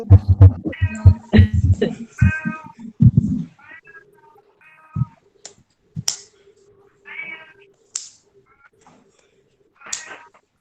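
A cat meows several times in a row, short separate calls spaced a few seconds apart, preceded by a stretch of people talking nearby; a faint steady hum runs underneath.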